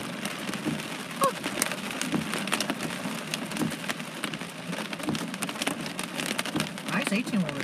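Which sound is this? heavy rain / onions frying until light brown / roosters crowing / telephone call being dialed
heavy rain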